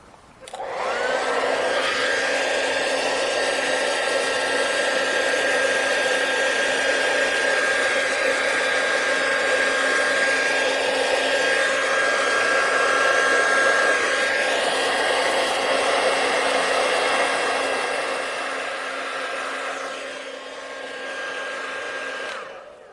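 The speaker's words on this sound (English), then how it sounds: "let's get my hairdryer" Hairdryer blowing steadily for about twenty seconds, a loud close whine with a constant high tone, switching on at the start and easing off near the end, with no talking.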